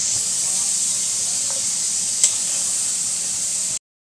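Vegetables for a veg pulao frying in hot oil give a steady, even hiss that holds throughout, with one brief pop near the middle before it cuts off abruptly.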